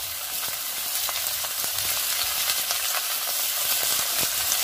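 Honagone greens tossed into a frying pan with green chillies and stirred, giving a steady close sizzle broken by the scrape and rustle of stirring.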